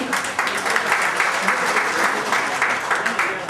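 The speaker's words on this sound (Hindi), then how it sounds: "तालियां बजती रहें" People clap at a Hindi-language official meeting, a steady patter of applause at moderate volume with a few louder bursts, while voices can be heard over it.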